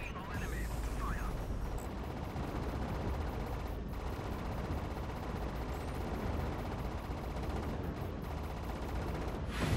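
Constant heavy weapons fire from a Fractured Space fleet battle over a station roars as a dense, continuous barrage with rumbling impacts, with voices speaking over it at times.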